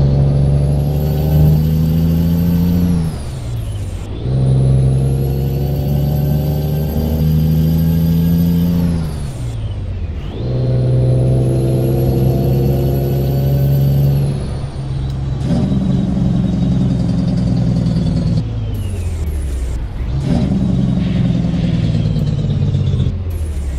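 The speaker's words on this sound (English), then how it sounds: "That time the engine brake worked perfectly fine" A heavy truck in American Truck Simulator runs its engine brake repeatedly, loud droning engine tones that ramp down in pitch during each long braking pass, separated by brief shifts and air-brake hisses, with no talking.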